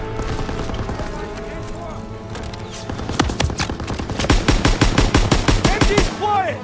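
Call of Duty WW2 machine gun fire in a wartime battle, starting as scattered shots before settling into rapid, loud bursts of rattling automatic gunfire over the game's background battle noise.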